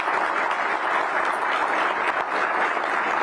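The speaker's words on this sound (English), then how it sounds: "Please give Lindsay a big round of applause." An audience at a public service awards ceremony applauds Deputy Mayor Lindsay Appiah, with dense, steady clapping that holds at a loud level throughout.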